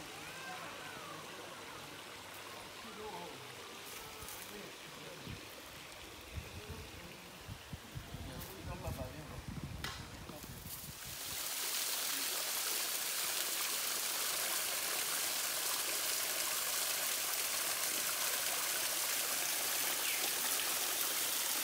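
Water rushes in a river on Mayotte, with mixed splashes and clatter early on before a loud, steady broadband flow takes over close by and continues unbroken.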